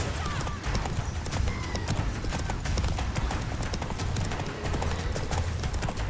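The horse Roach gallops in The Witcher 3, a steady rapid clatter of hooves that runs the whole time at moderate level over rushing background noise, with no voices.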